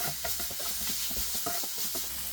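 Paneer sandwich filling being stirred in a pan after salt goes in, giving a steady soft sizzling hiss with faint scraping strokes of a spoon running throughout, close and fairly quiet.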